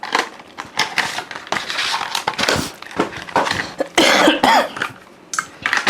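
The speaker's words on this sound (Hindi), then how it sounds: "दिल खोल के खांसी है।" Several sharp coughs burst out irregularly amid crinkling and rustling handling noises, fairly close.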